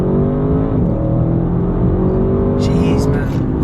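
Audi RS6 Avant with 590 horsepower and a 4-litre V8 accelerating hard, a loud, steady engine drone rising in pitch under continuous talk, with a brief scrape near the end.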